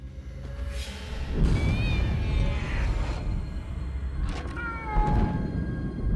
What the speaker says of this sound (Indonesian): Kayak suara kucing